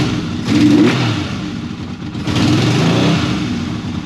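A Yamaha XS750 motorcycle engine, recently fitted with a new brass carburetor needle, revs close by in two rising blips over a rough, steady idle, with no talking.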